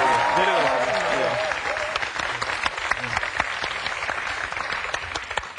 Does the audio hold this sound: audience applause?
yes